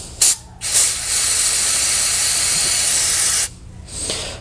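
Cleaner sprays in a steady, loud hiss onto BMW Airhead R90/6 fuel tank petcock valves, preceded by a couple of short spurts and ending in a brief tail-off.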